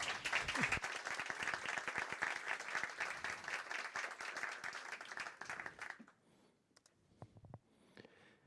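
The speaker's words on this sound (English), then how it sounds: "we'll start by giving him a very big applause" A conference audience at a Django developer event gives a big round of applause, dense and loud for about six seconds, then tapering off to a few scattered claps.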